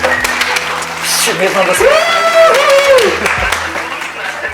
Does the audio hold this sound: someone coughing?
no